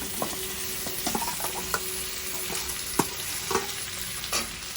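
Paneer going into a sizzling cauliflower mixed-vegetable curry in a pan, with a steady frying hiss and several short stirring scrapes and clatters spread through the clip, fairly close and moderately loud, no talk.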